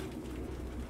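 Pigeons cooing indoors in Detroit: Become Human, a soft low murmur of coos under steady ambient hum, brief and fairly faint.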